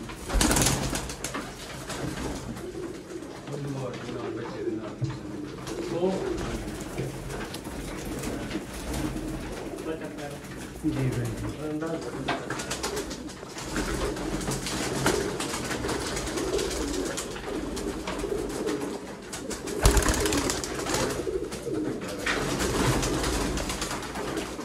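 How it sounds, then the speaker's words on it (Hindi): Pigeons, including feather-footed ones, coo repeatedly in soft, rolling calls over a steady background, with a brief exchange of speech partway through. "देखो कबूतर"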